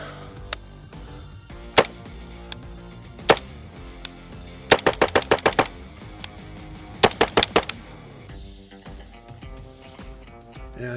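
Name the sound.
gunfire through a forward-blast muzzle device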